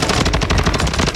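A rapid automatic burst of gunfire in Warzone, loud and close, with dense repeated shots filling the whole short moment and no talking.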